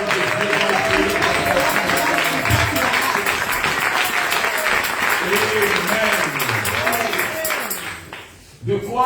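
A church congregation applauds and cheers the word of God, a dense, continuous wash of clapping with voices and music running beneath, fading away near the end.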